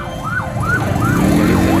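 An ambulance siren wails loudly and close by in a steady, repeating up-and-down sweep over the rumble of morning city traffic in the Philippines.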